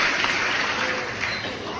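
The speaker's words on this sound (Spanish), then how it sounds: "Bríndele fuerte el aplauso al ser espiritual que está en nosotros" Brief applause from a church congregation during a sermon, a wash of clapping that fades slightly toward the end, with a voice faintly under it.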